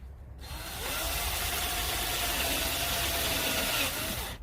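Drill boring a hole through a drainage pipe with a dull bit, a steady close motor whine that starts, holds for several seconds and winds down, no voices.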